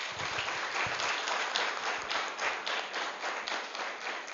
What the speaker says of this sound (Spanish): Un fuerte aplauso, hermanos.